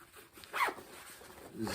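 A zipper on a pocket of a GORUCK Rucker 3.0 backpack is pulled in one quick, close rasping stroke, with another faint zip movement near the end.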